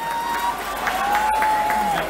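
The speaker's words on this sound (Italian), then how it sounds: "quindi un grosso applauso per loro." An audience at an outdoor year-end concert in Piazza San Carlo, Turin, claps in a sustained, even patter throughout, with a held musical tone running underneath.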